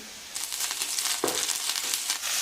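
Onions and ginger garlic paste are being sautéed in gingelly oil with mustard seeds, fennel and curry leaves in a kadai for egg curry. A steady, close sizzle and crackle runs throughout, with a brief stirring scrape partway.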